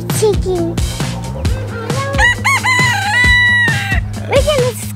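Chickens on a farm cluck and crow in loud, close bursts, with people talking over the birds throughout.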